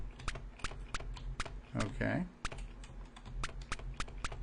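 Quick clicks of keys being pressed on a PC keyboard during play of the 1983 TRS-80 Color Computer game Annihilator, a Defender clone, sounding as an irregular run of close, sharp taps around a short spoken word.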